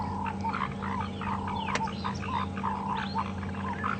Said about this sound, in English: I'm struggling to actually see the tree frogs, but hopefully you can hear them at least.